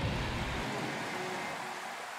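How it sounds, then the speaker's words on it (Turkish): A concert audience at a live performance applauds and cheers, a thick, continuous roar of clapping at a loud, even level that eases slightly toward the end. "İnsanlar ne alkışlıyor ha?"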